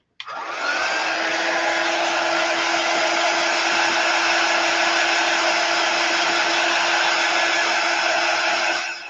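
A hair dryer runs at a steady, loud whoosh with a constant motor whine, drying chalk paint on a wooden sign, close by and alone for about nine seconds.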